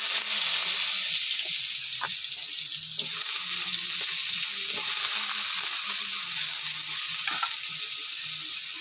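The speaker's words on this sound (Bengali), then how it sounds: "ফোড়নটা ভাজা হয়ে গেলে এবার আমি দিয়ে দিচ্ছি কুচিয়ে রাখা আলু" Chopped potatoes fry in hot spiced oil for a ridge gourd curry, giving a close, continuous sizzle. A few faint clinks break the steady crackle, and no one speaks.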